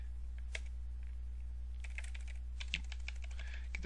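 Terminal command being typed on a computer keyboard in a Linux setup: sparse keystrokes early, then a denser burst of close, crisp key clicks over a steady low hum.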